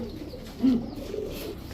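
Pigeons in a pen of fancy breeds such as Damascene, Budapest and Teddy highflyers give a single soft low coo, close by, over a faint steady background.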